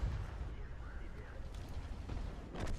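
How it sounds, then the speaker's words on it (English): Tank cannon fire in World of Tanks, high explosive shells striking a lightly armoured target: a dense, rumbling low-end roar with sharp crack-like bursts, the loudest near the end, under faint voice. "Three nice high explosive hits into that thing, all of them penetrated."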